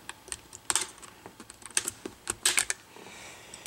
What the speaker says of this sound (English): we're going to use our X-Acto knife to lift up the corner and start snapping off